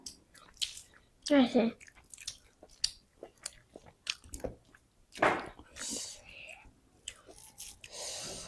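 People eating a home meal together, with soft close chewing, wet mouth sounds and light clinks of food, interspersed with quiet talk.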